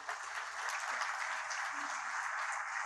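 Applause from the crowd at the official launch of the Expodireto Cotrijal 2026 agricultural fair, a continuous, fairly soft and distant patter of many hands with no break.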